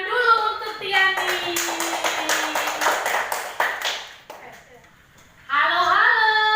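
Third-grade schoolchildren in a classroom burst into a quick round of rhythmic hand clapping for a classmate, between stretches of a teacher and children talking.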